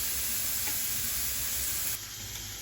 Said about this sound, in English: I'm starting off by sauteing some onions